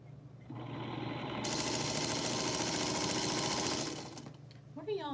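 A sewing machine runs steadily for several seconds stitching half-square triangle quilt pieces, a fast mechanical whir close by that slows and stops, followed by a brief voice.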